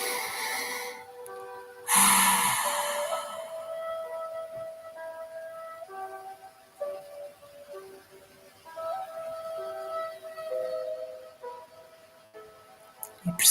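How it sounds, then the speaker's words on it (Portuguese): Slow, deep breaths drawn in and let out during a relaxation exercise, close to the listener: one strong rushing inhale followed by quieter airy exhales and softer breaths, with no talking. "Inspira e solta."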